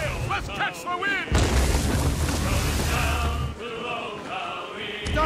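Ship cannons in Assassin's Creed Rogue fire in a heavy booming barrage, a deep rumbling blast swelling and fading over several seconds, with wind and shouting crew voices over it.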